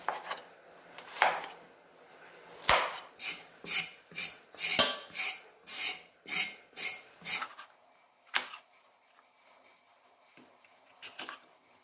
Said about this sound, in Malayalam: നമ്മൾ പച്ചക്കറി അവിയലിന് അരിയുമ്പോഴത്തേക്ക് നീളത്തിൽ വേണം അരിയാനായിട്ട്